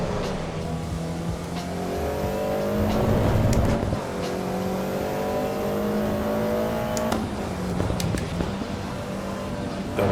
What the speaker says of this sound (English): Backfires, man.